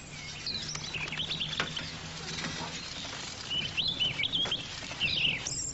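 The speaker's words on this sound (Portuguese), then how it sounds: "Vai, passarinho." A small bird chirps and tweets in short bright bursts as it is released beside a road, the calls scattered through the clip and loudest near the end over a low, steady outdoor hum.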